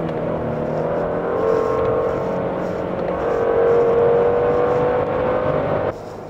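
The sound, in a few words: Genesis G90 car accelerating in sport drive mode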